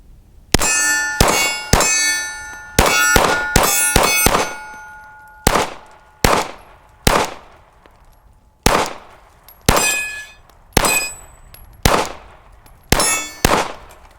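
Glock 19X handgun shots ringing off steel targets outdoors, a steady string of loud, sharp bangs, each followed by a metallic clang that decays, quick doubles early on and then evenly spaced single shots.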